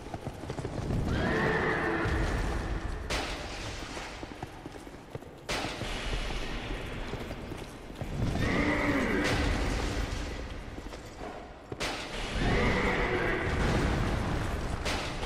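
Horse in Dark Souls 2 neighing loudly several times amid clattering hooves and heavy combat thuds, in repeated bursts across the stretch.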